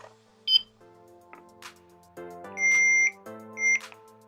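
A Hikvision AX Pro alarm keypad emits a series of short electronic beeps and sustained tones as a tag is presented to arm the system, clear and close with brief quiet gaps between chirps.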